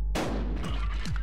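A shotgun blast in the video game Buckshot Roulette booms close and loud, followed by a quick rattling echo and further clatter within about a second.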